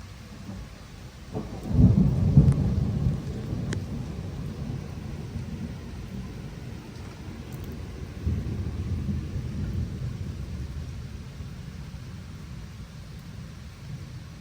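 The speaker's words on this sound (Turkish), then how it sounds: "ama şu an az yağıyor arkadaşlar ama daha demin bayağı bir şiddetliydi." Outdoor thunderstorm with steady rain hiss throughout; a deep thunder rumble swells early, then fades, and a second softer roll follows midway, no one speaking.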